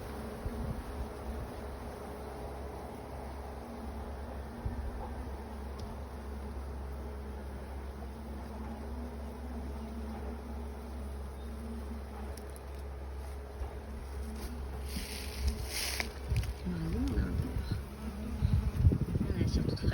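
A honeybee swarm moving into a hive gives a steady, dense buzzing throughout, close and continuous, with some louder rustling and handling noise near the end.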